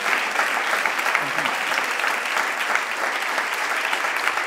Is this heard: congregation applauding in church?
yes